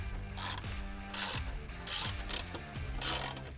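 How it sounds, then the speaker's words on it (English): A 13mm socket ratchet tightens the four X brace bolts while a carbon fiber X brace is installed, giving close, repeated bursts of quick clicking ratchet pawls separated by short pauses. "we grab our 13mm socket and tighten these bad boys down, all 4 of them"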